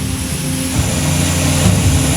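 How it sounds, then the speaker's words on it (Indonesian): A Hercules propeller aircraft lands at Minangkabau International Airport in Padang, West Sumatra, its engines giving a loud, steady droning roar with a constant hum throughout and no voices. "Dua pesawat Hercules membawa bantuan mendarat di Bandara Internasional Minangkabau,"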